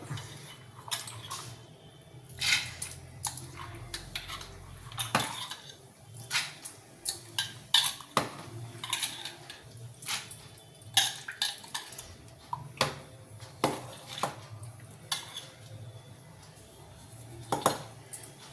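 A spoon scrapes and clinks irregularly against a bowl while wheat semolina and lentils are mixed. The taps are close and fairly quiet, with a soft hush between them and no talking.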